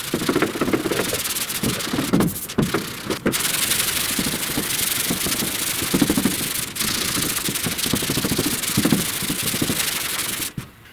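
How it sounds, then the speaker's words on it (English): A sanding block rubs by hand across a guide-coated body panel on a 1969 C10 truck's rear clip, a loud close raspy scrubbing in steady back-and-forth strokes with brief pauses between passes. "All right, I'm sanding, I'm rolling my block back so I can kind of sand with the edge of the block"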